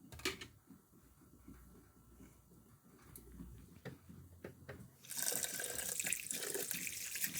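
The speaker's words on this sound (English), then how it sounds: "Just going to rinse it another time." Quinoa is rinsed under a kitchen tap, with quiet handling sounds and drips at first, then water from the faucet gushing steadily and close for the last couple of seconds.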